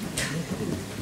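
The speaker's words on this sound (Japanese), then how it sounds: "まだ雨降ってますかね。" Rain falling steadily during an outdoor forest concert at a shrine, a broad continuous hiss with a brief brighter burst near the start, no voices over it.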